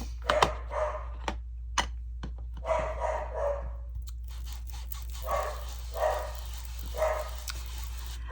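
A puppy barks in short bursts at middle distance indoors, scattered over soft rustling and crunching handling noises and a steady low hum.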